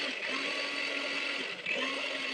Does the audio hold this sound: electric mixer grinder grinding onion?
yes